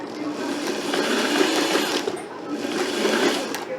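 A domestic sewing machine zigzag-stitches back and forth, joining a skirt to a t-shirt for a dress: a steady, fairly loud mechanical whir with rapid needle chatter, running continuously with a brief dip midway and no talk.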